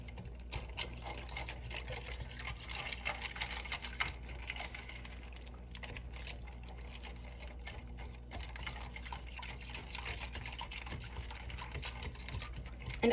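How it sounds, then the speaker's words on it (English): Milk and butterbeer ingredients, butterscotch chips among them, whisked together in a crockpot, a quiet steady scraping and rapid rattling that runs continuously at low volume with no voices. "at this point, we're going to whisk everything together"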